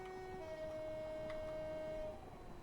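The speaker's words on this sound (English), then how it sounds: "Ooh, another train." A train on the Portsmouth Direct Line at night in Train Simulator 2021 sounds a steady two-tone horn over a low rumbling run, the horn holding for nearly two seconds before the quiet rolling noise continues alone.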